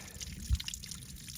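A trail water source trickles and pours quietly, a soft continuous watery wash with light drips, faint and steady throughout with no talking.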